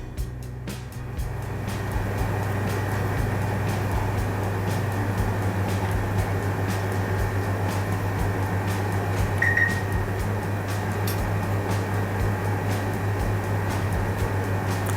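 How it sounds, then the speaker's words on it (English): A top-load washing machine's drain pump runs as a steady low electric hum with faint rattle, close and continuous throughout, no speech. "Drain motor is also working, you can hear the noise."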